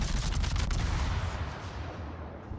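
Heavy naval gunfire in World of Warships from the cruiser Worcester, a loud rapid burst of overlapping cannon blasts that rolls into a fading rumble.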